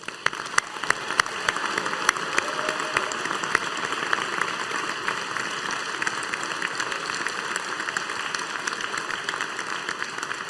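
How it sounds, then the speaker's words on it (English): At a Strathclyde Business School graduation ceremony, a large audience applauds the graduates with sustained, even clapping that fills the hall steadily from start to end, without voices. "give these graduates a big round of applause"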